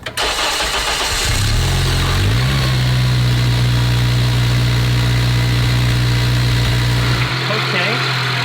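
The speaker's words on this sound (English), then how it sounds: "I do want to start up the Civic and I'm ready to hear this cold start with this new intake." A Honda Civic Si fitted with a Skunk2 cold air intake cold-starts with a brief cranking burst, then catches and settles into a steady, loud, close idle that holds for several seconds before cutting off.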